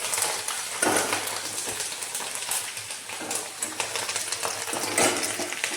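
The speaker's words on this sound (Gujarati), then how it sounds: "આપણું તેલ ગરમ થઈ ગયું છે તો આપણે મરચાં તળી લઈશું" Green chillies frying in hot oil in a home kitchen give a steady, close crackling sizzle with dense spitting pops and occasional utensil clinks, continuous throughout with no talking.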